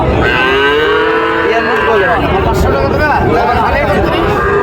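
Cattle, including bulls, at a busy livestock market near a border area low loudly and repeatedly close by, over a constant crowd babble with people talking and bargaining.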